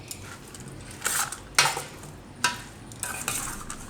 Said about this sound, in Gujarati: એકદમ મિક્સ થઈ જવું જોઈએ, બધા પૌવામાં પલળી જવા જોઈએ એમ